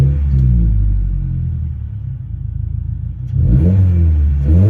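A 2022 Subaru WRX Sport with an ETS axle-back aftermarket exhaust idles with a deep burbling rumble, settles briefly, then rises in a strong rev that climbs and falls back, close and loud.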